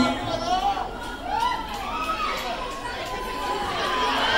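A crowd gathered at a meet and greet cheers and screams for a guest, a continuous loud wash of shouting and chatter with several high-pitched voices, including children's, rising over one another.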